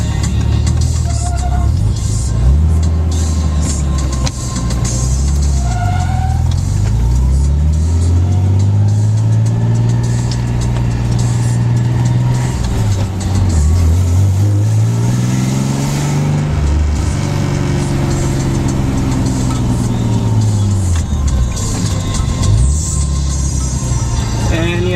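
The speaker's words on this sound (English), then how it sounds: "Yes, that is my belt you hear slipping." A car engine runs and revs continuously throughout, pitch rising and falling, with a faint high squeal from a slipping belt over the steady drone.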